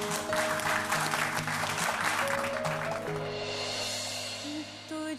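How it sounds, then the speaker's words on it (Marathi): Studio audience applause for Amulya on a television singing show, steady clapping over a sustained musical backdrop that fades out toward the end as the music carries on. "अमूल्यासाठी एकदा जोरदार टाळ्या होऊन जाऊ देत"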